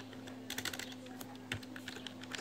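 Rapid, uneven keystrokes rattle on a computer keyboard while someone types C++ code, with short bursts and brief pauses over a steady low hum, close and moderately loud with no talking.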